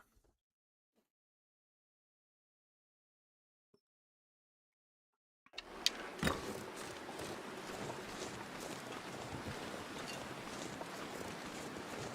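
Steady wind noise from The Long Dark, Interloper difficulty, cuts in abruptly after near-silence and blows continuously as a loud, broadband roar.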